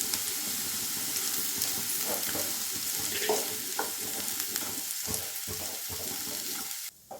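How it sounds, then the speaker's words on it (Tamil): Sliced carrots sizzle and fry with ground masala paste in a pan, a steady close crackle broken by intermittent stirring scrapes. "நல்லா எல்லா பக்கமும் மசாலா சேர்கிற அளவுக்கு வறுத்துக்கலாம்."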